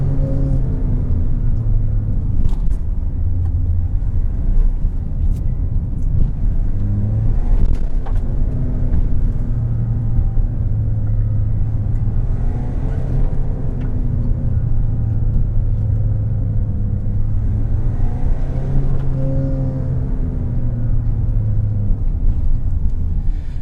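A Mahindra XUV700 diesel with manual gearbox, in Zoom drive mode, revs hard toward about 4900 RPM while accelerating. A loud, continuous engine drone rises and falls with gear changes against steady road rumble from inside the cabin.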